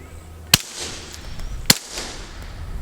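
Two sharp gunshots from a JK Armament CCX firing Hornady 147 +P subsonic defense rounds, spaced about a second apart, loud and close, each a crisp crack with a short outdoor echo and no talk.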